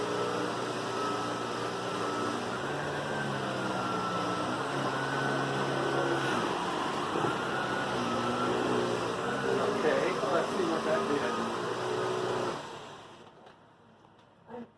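A Sebo vacuum cleaner runs with a steady, loud motor whine and airflow roar while sucking up debris, rattling and shifting slightly, before powering down into quiet near the end.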